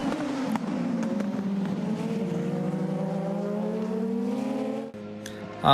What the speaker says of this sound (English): So we got 3 cars that are battling out for position here as they use their overtake systems.